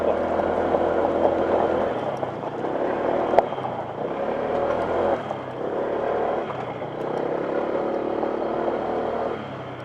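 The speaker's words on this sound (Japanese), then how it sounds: "今リアのブレーキ試したんですが" A Honda ADV160 scooter on a gravel forest road slows under rear braking. The engine note dips and recovers over continuous tire crunch and road rumble, heard up close at moderate level.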